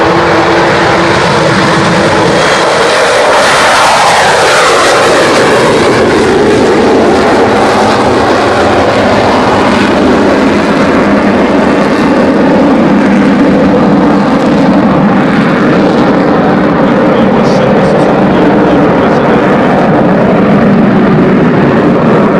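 A Cold War-era British V bomber flies and maneuvers overhead in a loud, continuous jet roar, with a sweeping pitch shift early on as it passes and then a steady rumbling drone.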